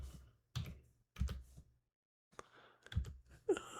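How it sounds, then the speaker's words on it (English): Several short bursts of clicking keys from a computer keyboard being typed on, close and fairly quiet, with brief pauses between the clusters and no talking. "let's just go over here and type in chalk"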